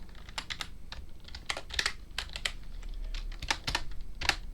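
Keys on a computer keyboard clatter in quick, uneven bursts of clicks, close and fairly quiet, with no talking.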